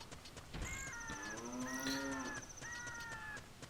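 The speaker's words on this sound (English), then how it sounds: "a cow that's somehow gotten itself stuck under here" A cow in the video game Ocarina of Time gives a clear, drawn-out moo with a tonal, game-styled quality. Steady background music plays beneath it, and no one talks.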